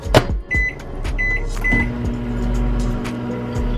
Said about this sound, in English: What I'm going to do is warm this up in the microwave